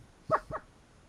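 A dog gives two quick, short barks in a row, calling out to another dog, moderately loud against a quiet outdoor background.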